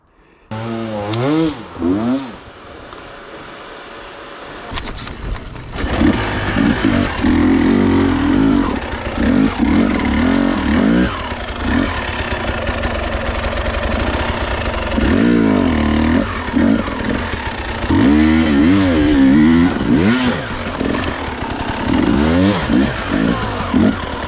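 Husqvarna TE 300i 2020 enduro motorcycle riding at the close of the enduro season, engine revving and surging loudly and steadily for most of the stretch after a quieter start.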